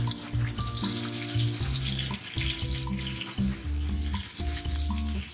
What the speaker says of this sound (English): It's not going to be a fry thing, it's going to be just sauteing, right?